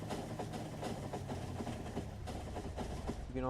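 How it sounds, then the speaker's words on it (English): A train in the video game Factorio rolls fast along rails, a steady dense rumble of wheels and engine with rhythmic clacks throughout, moderately loud with no voice over it. "The train is really picking up some serious speed now."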